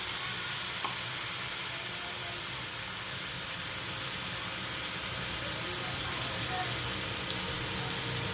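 Spice paste frying in a pan for a Bengali vegetarian banana-flower curry, a steady dense sizzle running throughout with soft stirring scrapes, close and continuous with no talk.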